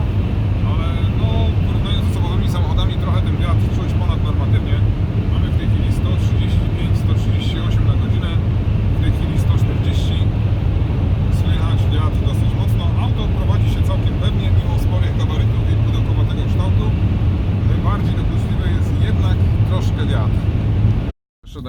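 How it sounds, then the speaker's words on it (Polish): Constant loud rushing wind noise inside a Dodge Grand Caravan 3.6 V6 on LPG at speed on a very windy day, with someone talking steadily over it, cutting off abruptly at the end. "słychać tylko szum wiatru"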